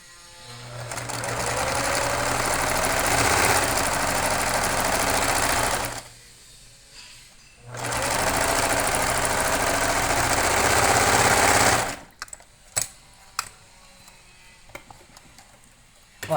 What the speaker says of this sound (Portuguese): A gente vem na máquina e vamos passar uma costura